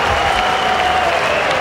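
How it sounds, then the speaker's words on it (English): Sparse applause from a crowd at an Australian rules football preliminary final, Glenelg against Sturt, after a goal: a steady, even patter of clapping with no voices over it. "There weren't too many applause for that goal"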